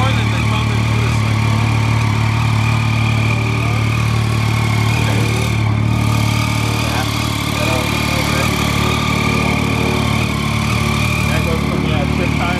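A 2013 Triumph Street Triple 675 R motorcycle engine idles nearby with a constant low hum and buzzing harmonics, running unchanged throughout, with people talking faintly over it.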